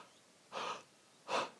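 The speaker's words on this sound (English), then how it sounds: "breathe very shallow and high in their body" Two shallow, high breaths in, the kind that lift the shoulders and chest, each lasting about a quarter second and spaced roughly three-quarters of a second apart. Both are close and soft, airy and hissing, with near silence between them.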